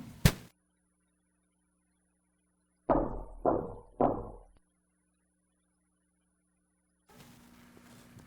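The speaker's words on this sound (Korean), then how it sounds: "철문을 두드리자 소리가 딱 멈췄습니다." Three sharp knocks on a heavy iron door, evenly spaced and resonant, with silence around them and a faint background hum.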